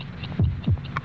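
A heartbeat sound effect from a Bufferin pain-reliever television commercial: two deep, soft thumps a fraction of a second apart over a low, steady hum.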